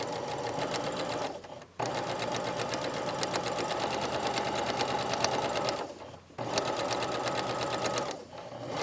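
A sewing machine runs in long steady bursts while stitching an eased jacket sleeve seam, pausing briefly twice between runs; close and fairly loud, with no talking.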